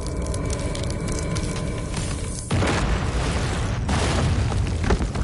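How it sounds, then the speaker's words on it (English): A statue blows apart during a video game boss fight against a colossus, a sudden loud boom cutting in over a steady rumbling game soundtrack, followed by a sustained crumbling roar. "the last statue's exploding"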